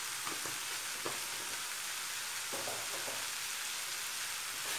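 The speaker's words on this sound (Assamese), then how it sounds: "এতিয়া অকণমান ধনিয়া পাউডাৰ দি মই হাই ফ্লেমত 1 মিনিটমান ফ্ৰাই কৰি নমাই থৈ দিম" Coriander powder frying in a pan over a high flame, a continuous bright sizzle with a few soft scraping stirs, close and alone.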